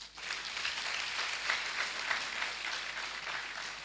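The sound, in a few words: audience applause for the planning committee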